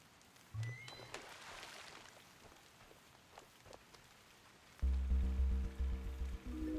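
Rain in the video game Sword & Sworcery, a soft pattering and dripping under quiet ambience, followed by a louder droning musical swell near the end.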